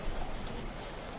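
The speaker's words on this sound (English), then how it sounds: "All around you can hear the sound of the rain battering the windows" Rain beats against windows on a dark, stormy night as a steady, faint wash of hiss and patter with no talk.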